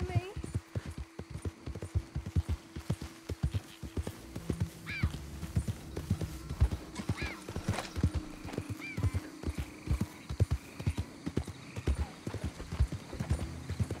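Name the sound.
horse galloping in Red Dead Redemption 2 video game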